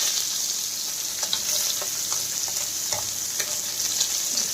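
Desi manji fish frying hard in hot oil for a home-style fish curry: a loud, steady sizzle close by, dotted with sharp crackles and pops, with no talking.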